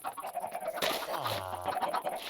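Chickens in a Minecraft chicken farm clucking repeatedly, a steady run of overlapping clucks and squawks with one drawn-out cackle near the middle, fairly close and continuous.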